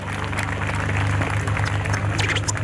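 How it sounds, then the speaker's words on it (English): An audience at a car show awards ceremony applauds the best British car, a steady, close burst of clapping sustained over a low background hum. "big round of applause for our best British"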